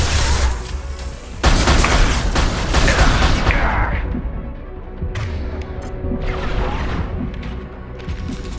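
Gunfire rattles through a Mass Effect battle in dense, loud bursts mixed with booms and crashes. The firing fades and returns in the second half.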